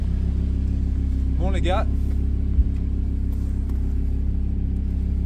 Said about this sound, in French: Vous passez en échappement sport et si vous mettez quelques revs, exceptionnel.